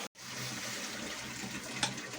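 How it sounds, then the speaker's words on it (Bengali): Water poured into a cooking pot of khichuri with rice and lentils, a steady rushing pour after a brief gap, with a small splash near the end. "সামান্য জল দেব।"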